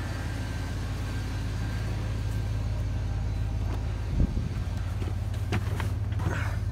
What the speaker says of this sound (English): Had the truck here warming up. Right here, sitting here idling,